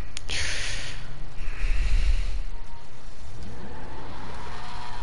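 An Apocalypse ZR380 car engine in a GTA game revs up loudly, a close rumbling roar with a rising whine and a brief falling sweep, heard alone without talk.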